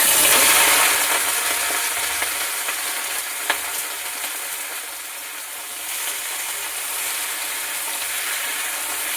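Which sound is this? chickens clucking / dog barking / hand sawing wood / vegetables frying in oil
vegetables frying in oil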